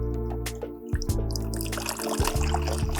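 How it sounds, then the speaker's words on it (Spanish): Water streams and trickles into a boat's hull through a small hole, a steady close pouring and gurgling with a few brief splashy breaks. "cómo entra el agua cuando tenemos un agujero en el barco"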